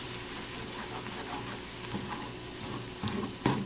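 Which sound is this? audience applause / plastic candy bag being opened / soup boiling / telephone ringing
soup boiling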